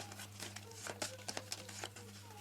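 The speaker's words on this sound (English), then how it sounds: "I'm going to give them some shuffles." A small packet of five playing cards gets a few quick shuffles by hand, producing soft riffling and crinkly flicks in short bursts, close and quiet over a low steady hum, with no speech.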